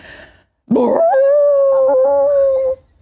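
A human voice imitating a sad dog whining behind a door, one rising whimper that settles into a long, steady, mournful howl lasting about two seconds, close and clear with nothing else behind it.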